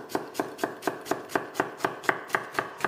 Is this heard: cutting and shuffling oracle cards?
no